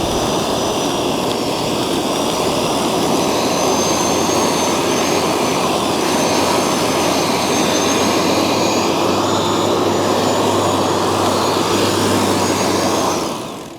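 Electric lawn dethatcher roaring steadily, loud and close, its motor pitch sagging slightly as it bogs down in the grass before cutting off abruptly at the end when the extension cord pops out.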